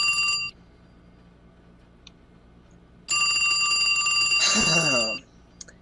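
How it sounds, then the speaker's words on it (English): Telephones ring loudly in a theater performance, one bright ringing burst cut short, then after a pause a longer, louder ringing stretch with overlapping tones. "We've just got to do something about our phones, or Desiree won't be able to take any more of your calls"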